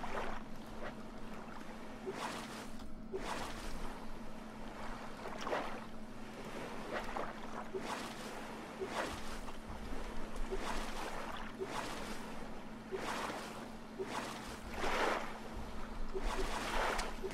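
Motorboat engine in the survival video game Stranded Deep, a steady low engine drone under repeated whooshing surges of water splash and wind as the boat moves, with no talk.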